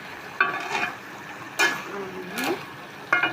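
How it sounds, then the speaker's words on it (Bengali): Fried fish and masala are stirred in a pan for a curry, with sizzling scrapes in several separate bursts, one of them a rising squeak, and a voice talking quietly between them. "নাড়া দিয়ে একটু ঝোল দিয়ে দিব।"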